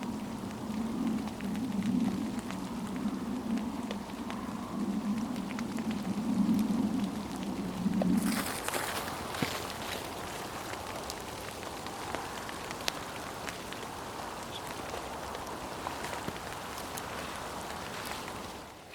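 Steady rain patters continuously on a surface throughout, with a shift partway through to a brighter, hissier downpour.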